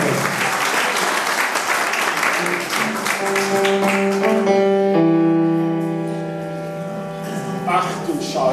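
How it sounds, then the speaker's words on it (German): An audience at a live music show claps loudly for the sound and lighting crew, the dense applause fading after a few seconds as sustained instrumental notes ring out. "einen großen Applaus für den Soundmann und den Lichtmann"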